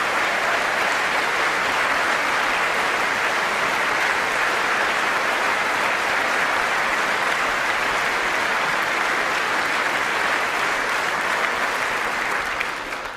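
A long, loud ovation from the chamber audience at a State of the Union address, many hands clapping in a dense, unbroken roar that holds steady before tapering slightly at the end.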